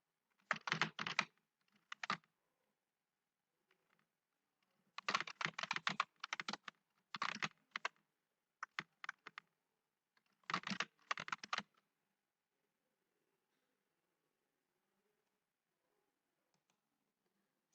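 Bursts of typing on a computer keyboard while program code is written, quick clattering runs separated by pauses, close and fairly quiet, with silence after.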